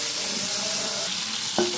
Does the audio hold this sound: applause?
no